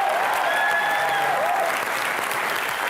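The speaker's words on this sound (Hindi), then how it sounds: "एक बार जीतू जी के लिए और तुषार के लिए जोरदार तालियां" Loud, steady applause from a studio audience for Jeetendra and Tusshar on a TV comedy show, a dense wash of clapping that fills the whole moment with no talk over it.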